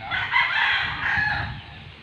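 A rooster crows once, close and clear, a single drawn-out call with no other sounds around it.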